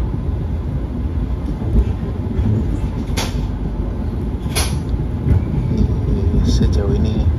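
Rumbling ride aboard the KA Taksaka passenger train from Yogyakarta to Jakarta, with steady low rail and carriage noise, a few sharp knocks and rattles, and faint voices in the background.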